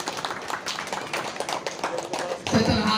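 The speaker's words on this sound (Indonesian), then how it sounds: "Tepuk tangan dulu untuk kepala sekolah dan guru." An audience at a primary school Maulid Nabi celebration claps in applause for the headmaster and teachers, dense scattered clapping throughout, swelling louder near the end, with talk mixed in.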